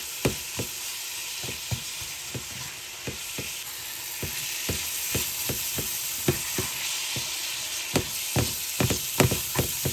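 Taco meat frying in butter in a pan gives a constant sizzle, with regular close clicks and scrapes from a spatula stirring it, no voices.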